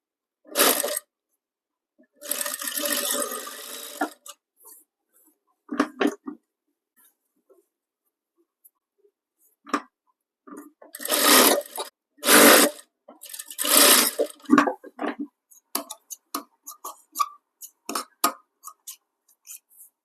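A sewing machine stitches along both shoulder seams of a blouse, close to the edge, in short irregular bursts of running separated by pauses and small mechanical clicks, with no talking.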